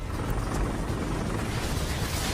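Helicopter flying near a burning aircraft crash site, a steady loud rotor thrum and engine roar filling the whole stretch without pause.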